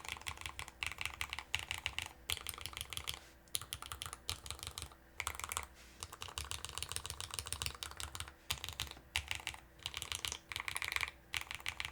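Rapid, steady typing on a Chosfox X Masro Geonix Rev. 2.5 mechanical keyboard with linear switches, dense close keystrokes in long runs with brief pauses between bursts.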